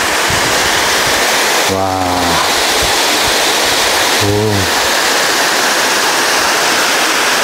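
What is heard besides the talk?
waterfall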